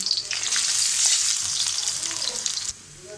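Chopped onion sizzling in hot oil with a dried chilli, loud close crackling and stirring that drops abruptly to a quieter hiss near the end.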